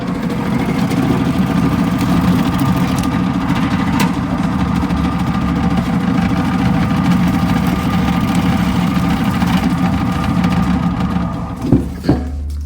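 Steady mechanical hum of an STvega Belt Cutter H20 slicing machine cutting bananas, running continuously with a brief clunk near the end.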